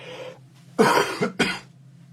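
Two close coughs in quick succession, the first harsher and longer, over a low steady hum.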